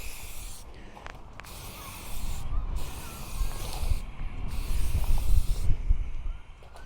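Aerosol spray paint hissing onto parts of a 1/6 scale Armortek M26 Pershing RC tank model from about 8 inches away, in repeated bursts of steady broadband hiss broken by short pauses, fairly close and loud.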